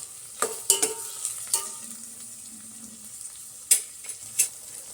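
Veg fried rice with pepper and cumin being stir-fried, a spatula scraping and clinking against the pan in several sharp strokes over a soft, steady sizzle, close up.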